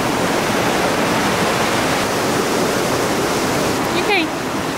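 A rushing mountain stream in the Jura Mountains, a loud, steady roar of churning water that continues unbroken, with a short voice cutting in near the end.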